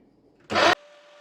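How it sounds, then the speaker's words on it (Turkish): A meat grinder runs in a short loud whirring burst while mincing içli köfte dough, then drops to a quieter steady hum with a thin whine. "Çekeceğim böyle kıyma makinesinden."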